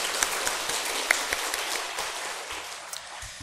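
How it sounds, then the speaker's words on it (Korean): Steady applause from a church congregation during a worship service, moderately loud and continuous, with scattered sharper claps. "하나님과 우리 찬양대에게 하나님께 영광의 박수 올려드리겠습니다"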